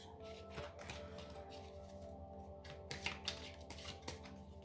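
Tarot cards are shuffled and flipped in soft, rustling bursts, with a few sharper slaps near the end over a steady low hum.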